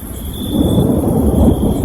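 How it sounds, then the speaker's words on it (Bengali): Deep rolling thunder from a Kalbaishakhi storm at night, a loud low rumble that swells and lingers for about two seconds with no voices over it. "তার সঙ্গে কান ফাটানো বজ্রপাত, আর দমকা হাওয়ায় গাছগুলো এপার থেকে ওপার তুলছে।"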